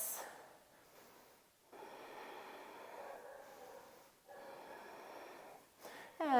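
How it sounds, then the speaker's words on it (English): Slow, deep breathing during a yoga triangle pose: several close, soft inhales and exhales in a calm, unhurried rhythm, quiet overall. "Deep breaths."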